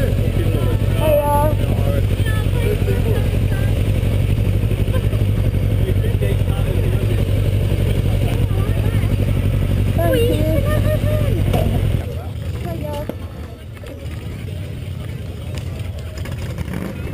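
A rat bike motorcycle engine runs steadily with a loud, continuous low rumble that drops slightly near the end, while people talk over it.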